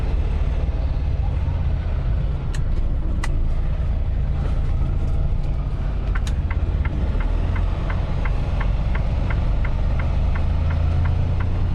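A truck reversing a trailer in between two parked trailers, its engine a steady low rumble throughout with a repeating reverse beeper pulsing evenly in the second half.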